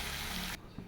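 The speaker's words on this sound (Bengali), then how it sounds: "যে মাংসটা সেদ্ধ করেছিলাম ওই জলটাই দিয়েছি, জুসটা।" Meat stock water pours into a cooking pot in a short, quiet splashing stream that stops abruptly halfway through, followed by a faint clink.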